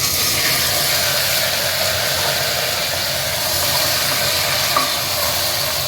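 Pumpkin pieces dropped into hot oil with tempering spices sizzle loudly and continuously, a dense, even frying hiss with no pauses.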